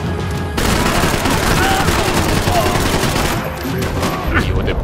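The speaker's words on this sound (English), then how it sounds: "Shooting at me!" Sustained heavy gunfire crackles from enemies shooting at the player in the video game Max Payne 3, dense and loud bursts that barely let up, with a few voices shouting over the shooting.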